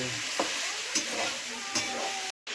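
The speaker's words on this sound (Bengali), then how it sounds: "রান্না লাড়ছি" Chicken curry being stirred in a pot over a steady sizzle, with a few soft scraping strokes spread through, close and fairly loud, ending in a brief dropout.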